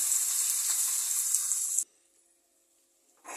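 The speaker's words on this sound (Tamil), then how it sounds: "அந்த கலர் வரணுன்றதுக்காக சும்மா எண்ணெயில் வதக்கிக்கலாம்" Spicy kara chutney for Mysore masala dosa sautés in hot oil with a steady, bright sizzling hiss. The hiss cuts off abruptly after about two seconds, leaving near silence.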